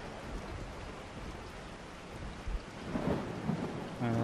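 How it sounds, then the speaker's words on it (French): Rain and thunder ambience in the Resident Evil 4 video game: a steady hiss of heavy rainfall with low rolling thunder rumbles building toward the end, continuous and fairly loud without talk. "Et il pleut"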